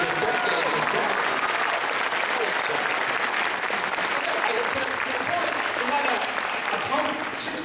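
Sustained applause from a convention panel audience, a dense even wash of clapping that fills the whole stretch at steady loudness, with faint voices mixed into the crowd.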